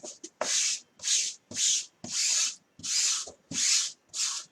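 A chalk transfer is smoothed onto a board by hand in quick rubbing strokes, about seven close, soft swishes in an even rhythm with no talking.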